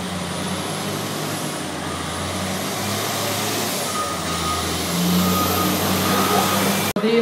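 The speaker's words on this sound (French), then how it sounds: "Alors ce 992K maintenant qui vient devant nous" A Caterpillar 992K wheel loader works at a Malaga demo park, with a steady loud engine roar throughout, a reversing beep and faint whistling tones over it, and a sharp break near the end.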